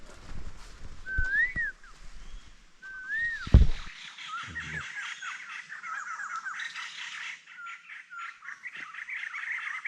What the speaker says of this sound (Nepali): एकदम हल्ला गर्छ सुगा।